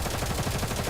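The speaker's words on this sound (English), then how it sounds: "However, the laughter is soon interrupted by the sound of gunfire." Rapid gunfire from the Girls' Frontline 2 Exilium video game, a dense burst of shots rattling continuously for under a second, fairly loud and alone.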